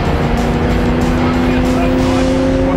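A Chevrolet Corvette sliding under throttle, its engine holding a loud steady drone with tire noise beneath, close and continuous throughout.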